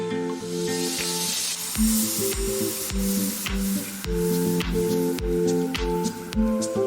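Sliced onions with salt sauté in a pan, a steady close hiss and sizzle punctuated by regular soft thumps of stirring, with no talk.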